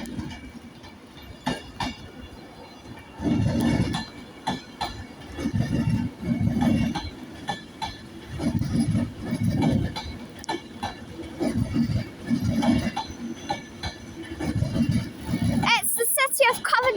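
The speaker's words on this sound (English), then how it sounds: "departing out now is the 1452 Avanti West Coast service starting here at Edinburgh Waverley" An Avanti West Coast Class 390 train pulls out of Edinburgh Waverley station bound for London Euston, with rhythmic clickety-clack of wheels over rail joints and occasional squeal, while someone talks over it.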